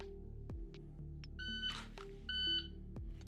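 Electronic shot timer beeps during dry fire drills, several short sharp tones spaced across a quiet room, one louder longer beep near the end, with faint handling noise.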